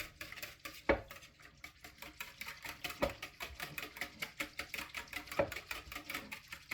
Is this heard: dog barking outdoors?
no